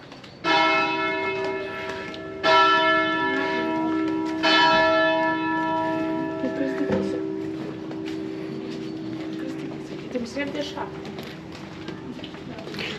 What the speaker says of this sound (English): I heard 3 bells.